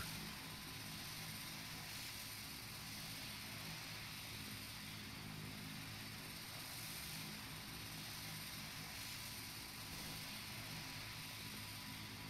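Steady drone of the four turboprop engines of a P-3C Orion in Flight Simulator X, a constant humming roar with propeller tones, unbroken and even for the whole stretch.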